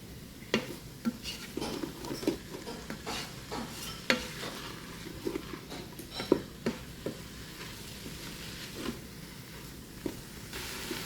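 Meat and garlic fry quietly in a pot for lasagna soup while a utensil stirs, giving repeated scraping knocks over a soft, steady sizzle; a voice talks in places.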